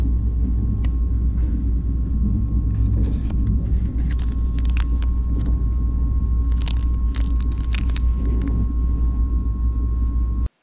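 Steady low rumble of a KTX high-speed train running at speed in South Korea, heard from a first-class cabin, with a constant hum and occasional brief clicks and rattles over the top, no talking.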